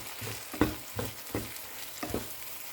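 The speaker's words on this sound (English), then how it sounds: "Add the egg and then mix until the egg is cooked." A spatula scrapes and stirs egg in a sizzling pan with radish leaves until cooked, four or five rhythmic strokes over a steady close frying hiss, no voices.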